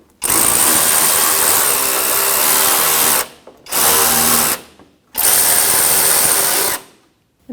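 A ratchet with a 10mm socket snugs oil pan bolts on a 2014-2019 Toyota Corolla 1.8L, heard close up in three loud, sustained bursts of rapid mechanical whirring separated by short pauses.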